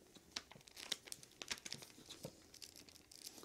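Paper bent against the grain, crinkling and crackling in quiet, irregular bursts of sharp rustles close by, with no talking.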